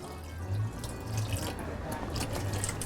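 Water runs from a tap while being poured over stuffed cabbage with tomatoes and sauerkraut in a cooking pot, a steady close splashing stream with low rumbling flow throughout.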